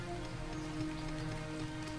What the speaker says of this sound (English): is that acid rain?